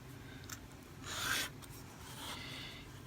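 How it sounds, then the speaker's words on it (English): Paper being cut out to form an envelope flap, a soft scraping, rasping cut swelling for about half a second amid quiet rustling, close and faint. "Now here I'm cutting the sides of the flap."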